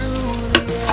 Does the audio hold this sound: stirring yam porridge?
yes